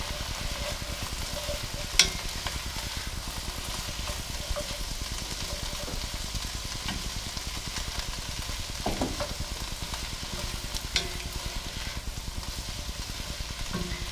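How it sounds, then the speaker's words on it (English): Onions sauté in a cast iron pan for ham and bean soup, a continuous close crackling sizzle with a dense, even texture and an occasional louder pop or utensil tap, with no voices. "I'm sauteing the onions until they're a bit translucent"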